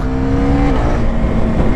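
A 2024 Husqvarna Svartpilen 401 motorcycle on off-road tyres accelerates through deep curves, its engine droning loud and close with a steady, rising tone and no voices.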